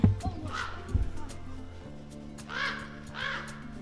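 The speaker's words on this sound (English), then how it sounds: "Big raven." A big raven in a rocky desert canyon along the Lost Creek trail in Red Rock Canyon near Las Vegas gives three hoarse, croaking caws at moderate distance, with a brief low rumble at the start.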